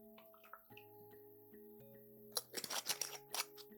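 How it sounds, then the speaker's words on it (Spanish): Champagne poured into a shot glass for a Pornstar Martini cocktail, giving a brief burst of crackling fizz and bubbling over soft background music. "Dentro de un vaso shot vamos a servir la champaña."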